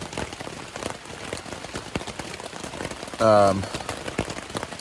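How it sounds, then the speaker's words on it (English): Steady rain falls on a hiking trail along the Appalachian Trail between Atkins and Daleville, a dense close patter of drops throughout, with a brief tonal beep partway through and no speech. "it's supposed to be raining all day long"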